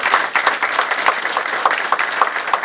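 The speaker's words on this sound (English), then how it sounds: "let's give Lloyd a big round of applause for moderating." A small group applauds a panel moderator, with distinct individual claps audible in a steady patter that continues throughout without any talk.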